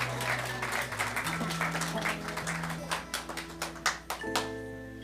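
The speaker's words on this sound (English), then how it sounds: "A round of applause as Emily joins me on stage" An audience at a stage magic show claps as a volunteer woman joins the performer, steady applause running alongside sustained musical tones with occasional sharper individual claps.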